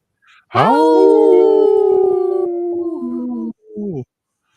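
A person imitates a wolf howl in a radio studio: one long, loud, sustained wavering howl that rises then tails off, followed by a short second howl.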